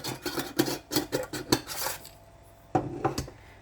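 A spoon scrapes and clinks against a bowl while cut chocolate is stirred into homemade chocolate granola, with a run of quick rhythmic clatters, a brief pause, then a few more close, crisp knocks.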